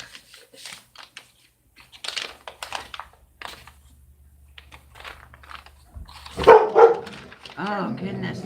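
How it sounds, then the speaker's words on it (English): Dogs bark in a burst of several sharp, close barks midway through, amid clattering and keyboard-like tapping, with a person talking around them. "These dogs bark at everything, y'all."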